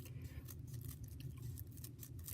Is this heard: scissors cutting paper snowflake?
yes